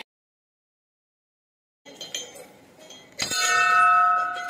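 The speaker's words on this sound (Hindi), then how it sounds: "ये देखिए यहाँ पर इतना बड़ा घंटा है" A large temple bell at a hilltop goddess shrine struck once, giving a loud clanging ring with a sustained humming decay that carries after about three seconds of near silence and some faint shuffling.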